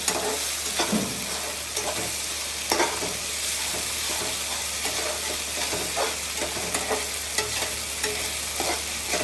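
Masala for chicken curry frying in a pan, a dense steady sizzle with a low hum beneath and frequent scraping taps of a spoon stirring, close and loud.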